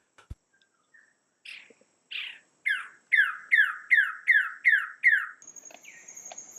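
A Wilson's bird-of-paradise calls alone, starting with scattered notes and building into a rapid run of loud, repeated downward squawks, then a higher whistle.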